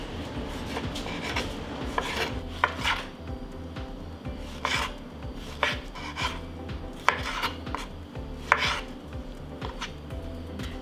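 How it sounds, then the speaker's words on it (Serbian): A knife slices through 3 kg of washed tomatoes on a board for preserves, repeated soft cutting strokes and rasping scrapes in an irregular rhythm, close and moderately quiet, with no talking. "3 kg opranog paradajza i seći ću na kriške"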